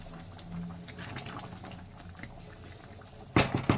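Chicken tarka curry boils steadily in a pot over a gas flame, a soft continuous bubbling and simmering close by, ending in a few louder clattering bursts.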